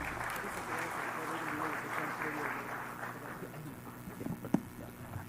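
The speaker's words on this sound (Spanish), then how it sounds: "Lo recibimos con fuertes aplausos, por favor." Applause from an event audience welcoming a speaker at a public-policy presentation, a steady broadband clatter of many hands throughout, fairly distant, with a sharp knock near the end.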